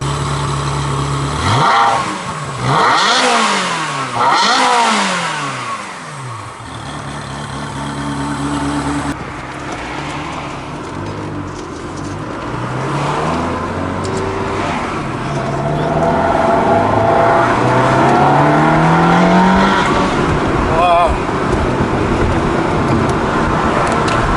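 Car engine accelerating and revving hard through rising sweeps, loud and close, settling into a steady driving drone with road noise.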